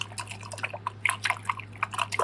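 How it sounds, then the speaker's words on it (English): Hot water sloshes and drips inside a coffee pot in short, irregular splashy bursts, close up, over a steady low hum. "Maybe give it a little swish around inside there"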